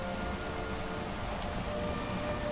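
Steady rain falls in the video game Skyrim, a continuous, even hiss of drops on surfaces running throughout with no voices over it.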